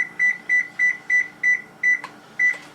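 An oven's control panel beeps while being set to bake at 400 degrees: a steady run of eight short, loud electronic tones at an even rhythm, with a faint click near the end and no voices.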